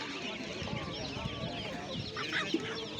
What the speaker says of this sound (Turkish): Köylü tavukları var.